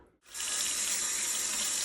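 Water from a kitchen faucet runs steadily into the sink of a small pine cottage, a loud, close, continuous splashing rush that starts abruptly after a brief quiet moment.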